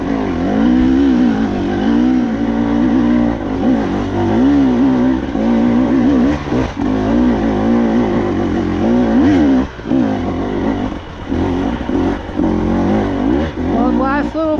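2024 KTM 300XC-W two-stroke dirt bike with TSP head and ECU tune climbing a steep trail in second gear, engine close and loud with rising and falling revs and throttle blips, a rider talking over it.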